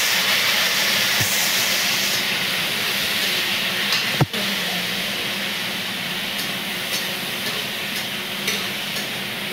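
Tomatoes go into a pan of frying soybean curry, producing a steady loud sizzle and hiss with a brief clatter partway through.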